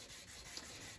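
A steel file rubs along the edge of a card scraper in one steady, faint rasping stroke, a soft continuous scrape heard close and alone.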